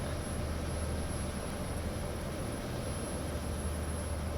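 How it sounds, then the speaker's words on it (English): A helicopter in the X-Plane 11 flight simulator drones steadily at full throttle, a constant close engine and rotor hum with no voices. "this chopper's very, very accurate"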